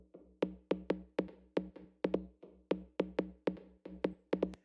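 Bass line passed through a delay chain with low-end EQ cut in an Ableton remix, heard alone as a steady run of sharp plucked hits with short echoing tails in a bouncy, repeating rhythm.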